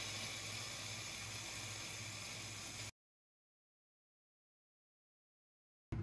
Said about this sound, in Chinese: 当气泡水机只出气不出水的时候，